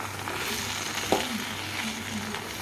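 Gongura leaves fry in oil in a pan for Andhra-style gongura pachadi, producing a constant close sizzle with one brief scrape of stirring partway through.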